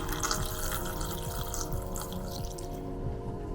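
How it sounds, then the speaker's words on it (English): Water pours steadily from a tap into a pot holding pork belly, a continuous splashing gush with a hollow, filling tone, close and moderately loud. "add the water, plenty of water to cover pork belly"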